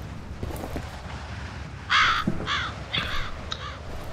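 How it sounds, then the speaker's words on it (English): Crow cawing in the video game F.E.A.R., four harsh caws in quick succession, close and clear over a quiet, breezy background. "Spooky crow."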